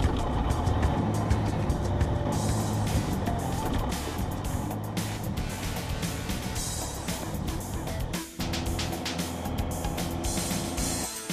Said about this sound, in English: We've done our checklist, let's start the engine.